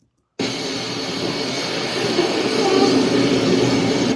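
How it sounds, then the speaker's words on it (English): Airplane jet engine during boarding, a loud, steady close roar that kicks in abruptly and holds at an even level, broadband and unbroken, with no talking over it. "I am boarding the plane right now, girl."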